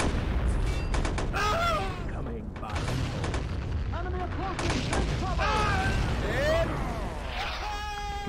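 Artillery fire in a Lego Men of War World War One trench battle, with rapid cracking shots and booms packed over a dense roar of combat, and someone speaking over the din.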